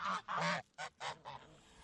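Seven-month-old geese honk in several loud, nasal bursts close by, with short gaps between calls and a fainter honk trailing off at the end.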